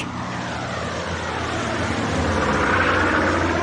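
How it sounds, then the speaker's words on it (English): Propeller aeroplane droning overhead, a loud steady engine roar that swells slightly as it passes, alone with no voices. "It's an aeroplane. A plane!"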